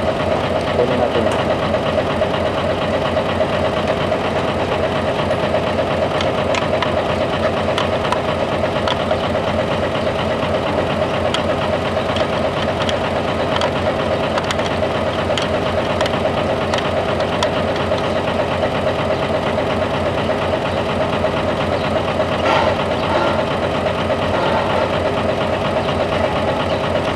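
A car engine idles steadily and continuously with a slight knocking, still running after the key has been switched off and removed; the engine fault keeps it from shutting down, and the drone stays even and close throughout.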